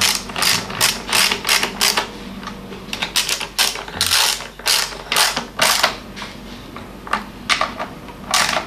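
A ratchet wrench tightening a bolt during home repair of a generator: close, crisp clicking ratchet strokes in repeated bursts, with brief pauses between pulls.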